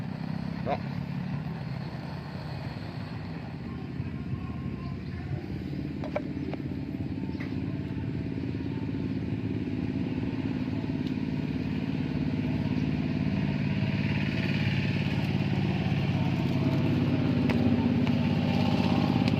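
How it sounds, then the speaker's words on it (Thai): A cow-dung biogas stove burning: a steady, low, rumbling roar that holds for about twenty seconds, with a voice talking over it. "เตานี่ติดแล้วพี่น้องฟังเสียงเด้อ"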